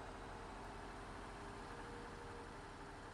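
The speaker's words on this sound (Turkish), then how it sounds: "Bu belden kırmalı bir traktör." An articulated tractor engine idling in Farming Simulator 19, a steady low droning hum with no change in pitch, very faint overall.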